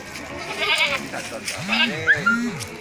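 Kacang goats bleat at a livestock market in Pelaihari, two clear wavering calls close by amid background chatter and market noise.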